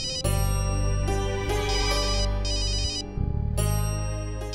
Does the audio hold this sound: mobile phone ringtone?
yes